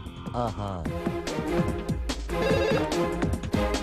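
A cell phone ringtone plays for an outgoing call, a loud repeating electronic melody with distinct tonal notes, steady and close, with no talk over it.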